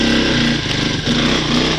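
Engine of a 1986 Yamaha DX225 shaft-drive ATV while riding over bumpy ground, a loud, close, continuous buzzing drone with a small dip and recovery in revs partway through.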